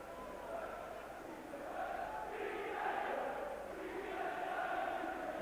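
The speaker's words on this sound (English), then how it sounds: "The crowd showing their approval of Keith Edwards on that goal" A football crowd at a Sheffield United versus Brighton & Hove Albion match in 1986 roars its approval after a Keith Edwards goal, a broad, steady wash of cheering that swells slightly midway and holds on.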